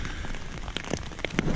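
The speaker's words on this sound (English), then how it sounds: "the rain is ingressing slightly" Rain patters steadily on a Snugpak Stratosphere bivvy bag at a wild camp, a dense close hiss of drops with a few louder individual taps standing out near the end.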